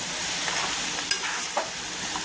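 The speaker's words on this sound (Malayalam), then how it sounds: "കുറച്ച് കരിവേപ്പില കൂടെ അതിന് മേലെ ഇട്ട് കൊടുത്ത് ഒന്നും കൂടെ ഒന്ന് ഇളക്കി കൊടുത്തതിന് ശേഷം" Jackfruit masala with curry leaves gets stirred in a pan, giving a continuous soft sizzle with a couple of short scraping clinks from the utensil, no voices present.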